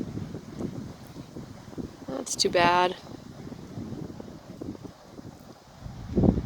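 Wind gusting at a backcountry lake campsite in the Haliburton Highlands, a low, fluctuating rush with microphone buffeting, briefly under a short spoken remark.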